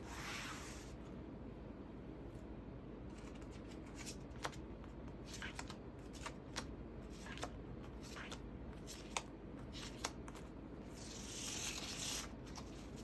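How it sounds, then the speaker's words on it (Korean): Tarot cards being spread out across a surface, quiet soft rubbing and faint scattered flicks and taps over a steady low background hiss. "자, 핑크색 보석 뽑으신 분들 좀 세세하게 카드 한번 펴볼게요."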